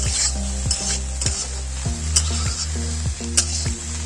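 Moringa drumsticks fry with spices and onion in a pan, giving a steady loud sizzle broken by repeated scraping stirs and a few sharp metallic clinks, with a low tonal hum running underneath.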